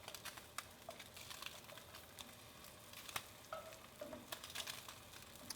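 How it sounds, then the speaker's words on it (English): Steady crackling sizzle of Spam frying in a pan, with occasional soft pops and clinks, close and continuous, no talking. "Once it starts to sizzle, just checking on them, seeing what the color is."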